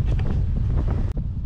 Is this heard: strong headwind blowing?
yes